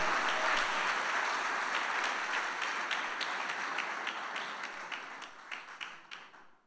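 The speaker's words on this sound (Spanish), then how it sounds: "dele un aplauso de alabanza" A church congregation claps in praise during a Spanish-language service, a dense wash of applause that starts full and gradually thins and fades toward the end.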